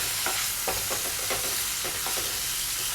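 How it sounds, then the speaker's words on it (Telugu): Peanuts and cumin seeds frying in hot oil give a steady, close sizzle, with light scraping stirs breaking through at irregular intervals. "పల్లీలు జీలకర్ర వేసిన తర్వాత ఇవన్నీ కూడా బాగా కలిసేటట్టు ఫ్రై చేసుకోవాలండి"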